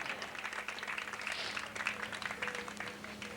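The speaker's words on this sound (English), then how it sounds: "Give Bill a round of applause." A crowd at a speedway applauds a Trophy Dash winner, steady scattered clapping heard at a distance and fairly faint for a few seconds.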